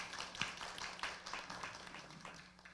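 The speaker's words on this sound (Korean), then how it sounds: "큰 박수로 맞이하겠습니다." Faint, steady applause from a conference audience at an intellectual-property academic symposium, many hands clapping together at a distance and slowly tapering off.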